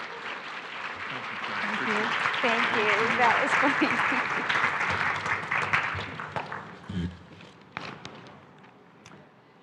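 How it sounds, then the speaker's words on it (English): Conference audience applause at a leadership event builds to a full, sustained round of clapping, then thins into scattered claps as a person speaks briefly over it. "Please give them a great round of applause, will you please?"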